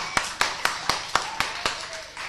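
Rhythmic applause at a live magic show, a sparse run of about eight sharp, evenly timed claps that sound like a few hands or one clapper, moderately close and alone.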